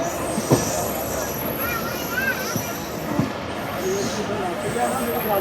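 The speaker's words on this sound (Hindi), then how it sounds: "34 डॉन पार्क बिजनेस एक्सप्रेस। हाँ भाई, हम तो समझ रहे थे ये भी स्लो स्लो जाएगा, इतना तेज़ नहीं है" The Don Park Business Express rushes past at speed, its wheels screeching and clattering on the rails with sharp squeals and rhythmic knocks, while a voice speaks faintly beneath the steady rumble.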